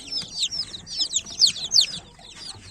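Chickens and about ten roosters cluck and crow in a busy, continuous chorus in a coop, many birds calling over one another at moderate distance.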